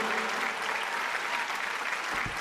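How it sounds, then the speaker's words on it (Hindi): A crowd at a Hindi poetry recital (kavi sammelan) breaks into enthusiastic applause, a full, continuous roar of clapping from many hands. "कमजोर तालियां मत बजाइए, जरा उत्साह भर दीजिएगा।"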